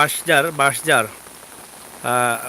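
Rain falls over a rural village, a steady soft hiss that carries on between and beneath bursts of someone talking.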